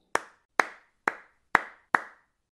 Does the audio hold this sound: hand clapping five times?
yes